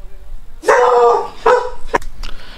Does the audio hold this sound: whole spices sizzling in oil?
no